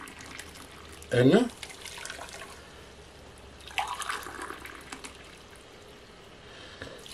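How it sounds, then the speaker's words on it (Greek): Two cups of hot water are poured into a pot for a cinnamon and orange-peel syrup, giving a brief splashy pour and then a longer, softer stream, close by, with someone talking in Greek. "Θα βάλουμε 2 φλιτζάνια νερό, εγώ βάζω καυτό πάντα"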